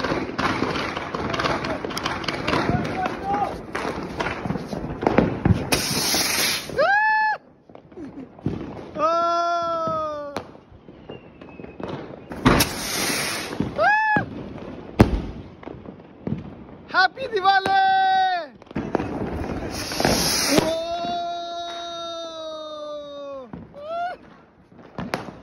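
Diwali firecrackers burst among family and friends: loud crackling pops and rising, whistling tones sweep up repeatedly over about 25 seconds, with people talking throughout.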